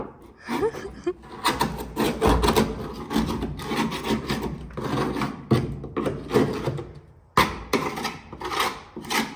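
A scraper rasps rust flakes off the box rails of a 2010 Ford F-150, coming as repeated close bursts of rough scraping separated by short pauses.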